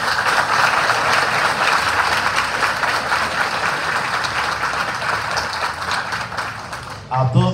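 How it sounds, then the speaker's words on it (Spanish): Applause fills a priestly ordination ceremony, a steady loud wash of clapping from a large congregation that holds for about seven seconds before fading into a brief sound at the end. "Un aplauso para ustedes."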